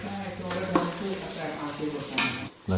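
Carrot and onion sizzling in a frying pan for biryani rice, a steady close crackle with brief stirring bursts and a short dip near the end.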